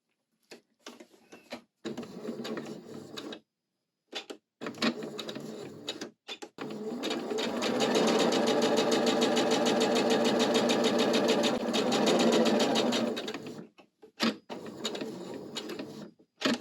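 Sewing machine stitching trim onto a fabric hem: short stop-start bursts of rapid mechanical whirring, then a long steady run of stitching, then more brief bursts, close and clear with no talking.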